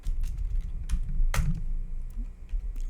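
Keys clack on a computer keyboard in irregular bursts of typing, close and clear, with a few louder strokes and low background hum, while working in a Ruby terminal on Ubuntu.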